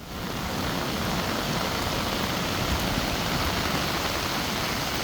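Heavy monsoon downpour in Gujarat's Narmada district, with about 14 inches of rain falling in four hours, gives a dense, steady roar of rainfall that holds constant throughout, with no voices.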